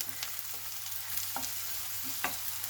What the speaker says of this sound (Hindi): और इसे अच्छे से हम मिक्स करेंगे, इसे भी हल्का सा हम भून लेंगे।